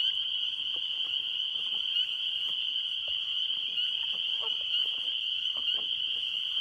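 A chorus of spring peeper tree frogs fills a marsh with a continuous shrill, high piping drone, steady throughout, with faint scattered knocks and rustles underneath.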